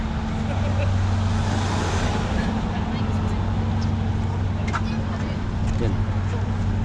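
Road traffic hums steadily at the Great North Run assembly area near Newcastle, with a constant low engine drone and passing vehicles while people talk nearby.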